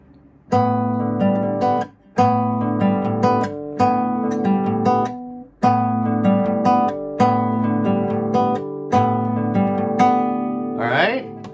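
Fingerstyle acoustic guitar picking only open strings in a song's arpeggio pattern, bright ringing notes rolling in a steady repeating cycle, close and unaccompanied.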